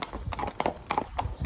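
Shod horse hooves clip-clop at a steady walking rhythm on a main road while hacking out, the footfalls close and crisp over faint road ambience.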